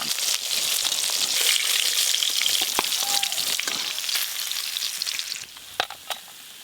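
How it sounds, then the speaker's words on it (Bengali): Hilsa fish frying in mustard oil, a steady close crackle and sizzle with occasional sharper pops and a few stirring clinks near the end. "আজকে ইলিশ মাছ ভাজা হচ্ছে"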